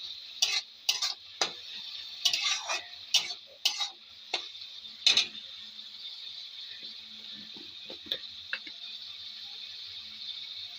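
A spoon scrapes and knocks against a pan as spices and garlic paste are stirred together, producing a burst of sharp, irregular clacks over a faint, quiet background that thins out toward the end.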